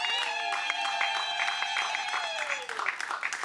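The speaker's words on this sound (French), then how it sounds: "Applaudissez pour le mariage alors" Applause breaks out for a wedding ceremony as a crowd claps steadily and densely, with a few cheering voices rising through the clapping before it fades near the end.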